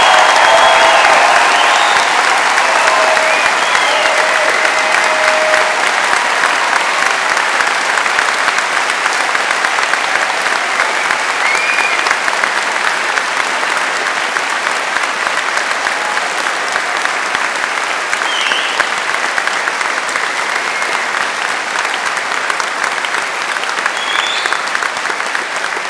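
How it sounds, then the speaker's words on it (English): Steady, loud applause from a large audience honouring graduates at a London degree ceremony, sustained without a break, with faint cheers scattered through the clapping. "give them a big round of applause and show them how proud we are of them"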